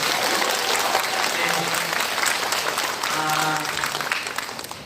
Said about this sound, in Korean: 우리 모두에게 박수 한번 해주시죠.